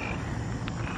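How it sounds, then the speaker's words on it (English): Frogs croak at night outdoors, a dense steady chorus under a broad wash of background noise, with no clear single call standing out. "Y'all hear the frogs?"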